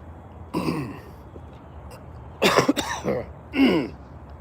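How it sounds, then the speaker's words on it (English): A man coughs and clears his throat in a few rough bursts separated by pauses, close to the mic over quiet outdoor background. "Still getting over a cough"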